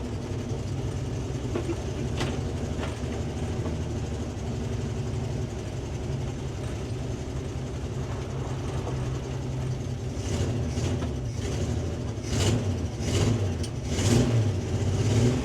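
A 1965 Ford Econoline engine runs steadily and never settles to idle, a loud, continuous rumble that keeps surging. It revs harder near the end, with a few sharp clanks and knocks over the drone.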